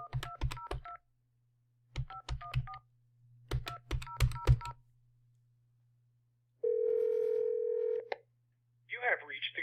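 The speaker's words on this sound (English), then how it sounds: "So let's call this number and just see what happens." Telephone keypad tones dialing the U.S. Department of Justice hotline: three clear bursts of rapid beeps over a steady dial tone, then a long single tone before a recorded voice begins.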